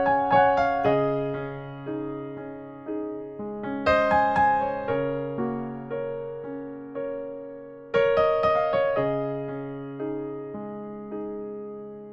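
Solo piano playing the intro of a ballad, slow sustained chords with three struck phrases about four seconds apart, close and clear with no talking.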